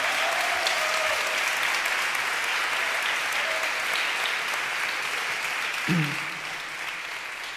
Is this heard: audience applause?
yes